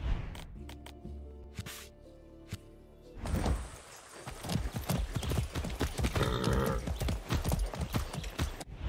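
Horse hooves clip-clop in the video game Far Cry 6, starting sparse with a low engine-like hum, then breaking into a fast, steady rhythm of close, loud hoofbeats with a faint snort.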